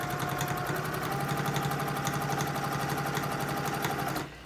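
A sewing machine stitches a fabric mask seam, a fast steady mechanical whir with rapid even needle clatter, close and loud, stopping abruptly at the end.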